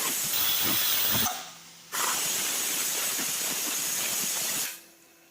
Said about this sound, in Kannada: ಆ ಕಡೆ ವಿಷಲ್ ಬರ್ತಾ ಇದೆ ಎರಡು ವಿಷಲ್ ಕೂಗಿಸ್ತಾ ಇದ್ದೀನಿ